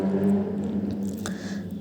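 Semolina is stirred into water in a pot for rava khichdi, making soft, wet squishing and scraping sounds close by, with a brief sharper knock partway through.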